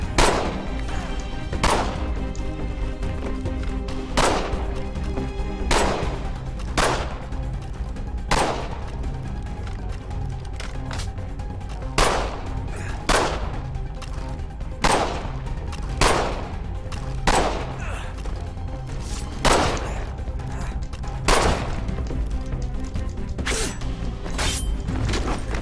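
Gunfire in Assassin's Creed III, a dozen or so loud sharp reports spaced every one to two seconds over a steady mechanical game background, with no talking.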